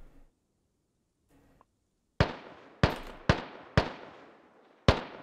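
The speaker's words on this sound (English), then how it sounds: "they're just taking shots at whatever they can see" Gunfire in the military shooter game Squad during a forest operation: five loud, sharp single shots spaced about half a second to a second apart, following a quiet stretch with faint distant noise.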